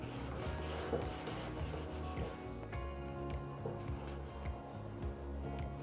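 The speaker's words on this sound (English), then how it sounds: "And just rubbing it back and forth." A rag is rubbed back and forth against a wooden panel clamp to lift off dried glue softened with alcohol, giving a steady, close scrubbing rasp with brief pauses and a few light knocks.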